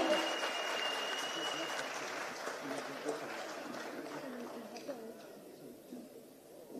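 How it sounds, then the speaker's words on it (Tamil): An audience at a Tamil public speaking event gives a round of applause after a speech, moderate clapping that gradually fades out, with faint crowd murmur beneath. "மீண்டும் ஒரு முறை ஒரு பெரிய கைத்தட்டல் கொடுத்துடலாம்"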